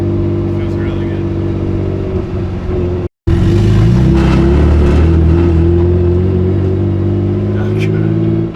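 A BMW E36 fitted with a 2.93 differential and solid diff bushings drives and accelerates, its engine droning loud and steady from inside the cabin with a brief cut mid-run, while people talk over it.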